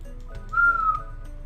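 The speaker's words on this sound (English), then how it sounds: "I probably should not whistle like that." Someone gives a short, steady whistle lasting under half a second over low background noise.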